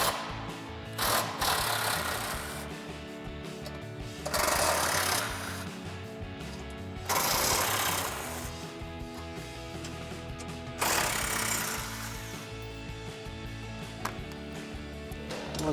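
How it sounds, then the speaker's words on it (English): Impact wrench with a 13 mm socket runs bolts off a 2021-2023 Bronco front bumper: four loud, rattling bursts of about two seconds each, separated by steadier mechanical whirring, close by with no talking. "So we'll grab our 13 millimeter socket on our impact"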